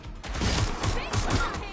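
Suspect opening fire in the video game Watch Dogs Legion, with several loud gunshot bursts in quick succession, close and punchy, over a continuous layer of game noise.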